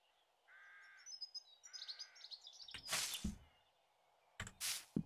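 Crow in the survival game 7 Days to Die, two loud harsh caws close by, following softer bird chirps and tonal game sounds over a quiet background.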